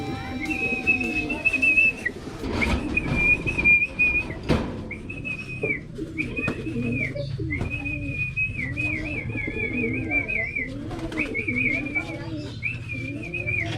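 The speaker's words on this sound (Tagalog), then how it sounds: "So nandito na yung ibon natin mga ka-birdie." A racing pigeon arrives at its loft: near, repeated soft coos alongside a run of steady, whistle-like chirps that recur every second or so over low background noise.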